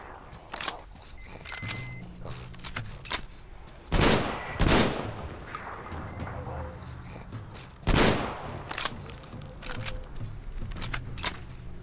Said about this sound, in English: It's a pretty dope shotgun.